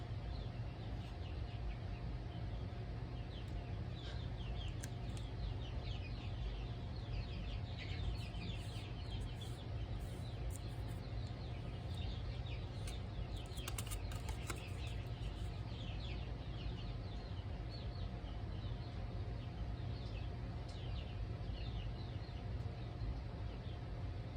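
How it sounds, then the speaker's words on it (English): Young chicks in a cage, clucking and peeping as a steady, fairly faint flock chatter throughout, with scattered small rustles that may be wing flapping. "those little chickies are getting big enough. They're like, nope, we need a bigger cage"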